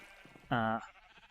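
A single sheep bleats loudly in a block-building farming game beside a colored sheep farm, one clear wavering baa of about a third of a second amid quiet game ambience.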